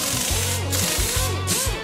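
Cartoon tool effect of a screwdriver working on a hammer: a quick series of buzzing, rhythmic whirring bursts, loud and close, with no talk.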